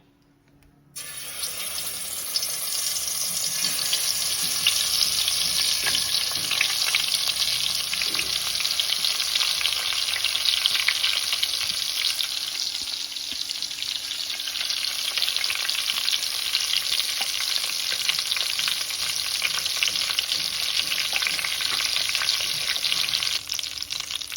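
Stuffed eggplants dropped into hot oil in a pan, a near silence followed by a sudden loud, dense sizzle that stays strong and steady for the rest, with crackling texture throughout.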